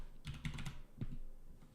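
Computer keyboard typing while playing the strategy game Master of Orion: a quick burst of several key clicks, then a couple more taps after a brief pause, close and fairly quiet, with no talking.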